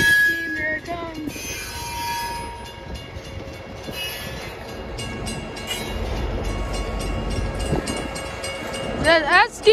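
BNSF freight train with a distributed power locomotive passing slowly, giving a loud rumble with screeching wheel squeals, metallic clanks, and a horn-like tone near the end.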